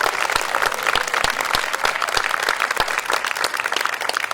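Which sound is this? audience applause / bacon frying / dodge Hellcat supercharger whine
audience applause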